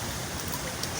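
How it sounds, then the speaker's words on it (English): Steady rain falls through a strong wind storm, a dense, even hiss of drops that fills the whole stretch at moderate loudness with no voices over it. "Well, it's still raining,"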